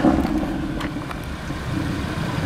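A turbocharged Audi TTRS running on E85 fuel gives a steady, loud, low engine rumble that holds constant throughout the short stretch, close by, with no talking.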